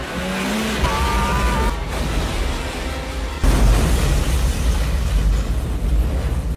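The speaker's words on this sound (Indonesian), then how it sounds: "sehingga ketika ledakan terjadi" A revving engine whines and shifts pitch in a film scene, then a sudden loud explosion erupts into a heavy, sustained rumble that fills the rest of the clip.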